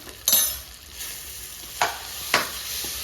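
Ground spices such as turmeric, chili, coriander and garam masala are stirred and roasted in a pan, giving a soft steady sizzle broken by three or four sharp scraping clinks of the spoon, close and with no talking.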